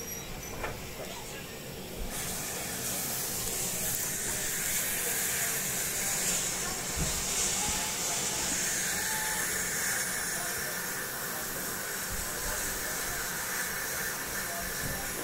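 Steam locomotive venting at a Gloucestershire Warwickshire Railway station, a loud broad hiss of steam that surges after a short opening and stays steady, with faint voices and station noise beneath.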